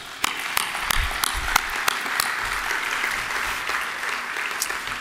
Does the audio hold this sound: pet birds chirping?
no